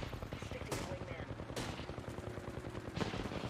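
Rapid machine gun bursts from the Apex Legends shooter game rattle continuously with sharp repeated reports, dense and fairly loud, mixed with other in-game combat noise.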